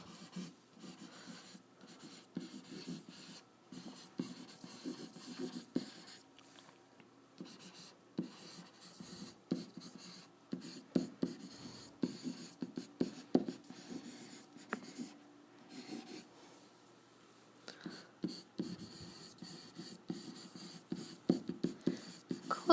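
A pen or pencil scratches out division notes on paper, close and clear, in irregular strokes and taps with short pauses between, otherwise quiet.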